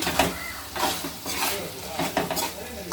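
Fried boiled eggs tumbled into a pan of thick egg curry and stirred, giving soft scraping and clinking of a spoon against the pan over a faint sizzle, with a few brief knocks.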